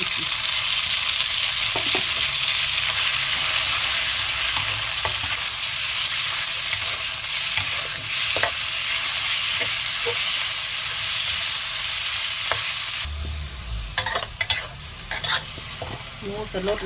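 Steady loud sizzling of pork stir-frying with mixed vegetables in a hot pan, with occasional scrape and clink of a utensil; the hiss drops and turns choppier near the end.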